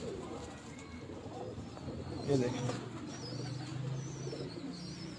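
Pigeons in a rooftop loft give soft, low cooing, near but quiet, with one fuller coo in the middle, while someone talks over them.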